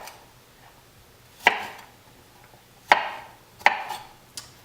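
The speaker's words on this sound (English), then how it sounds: "cut off as much of that stem as you can" A knife chops through a cauliflower stem on a cutting board, giving three crisp, near thunks spaced about a second and a half apart and a lighter fourth tap at the end.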